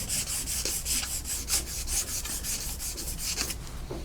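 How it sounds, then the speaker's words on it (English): Fine 800-grit sandpaper rubs around a part of a GM 3800 Series II engine during an overhaul, smoothing burrs in steady, close back-and-forth strokes with no talk. "just go around them with a little sandpaper to smooth out any burrs that it might have"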